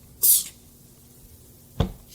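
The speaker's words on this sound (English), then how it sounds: "Spray directly onto the stone surface." Marble and granite daily stone cleaner sprayed onto a stone surface from a bottle: one sharp hissing spray burst, then a short quiet gap and a soft thud-like sound near the end, close and with no voices.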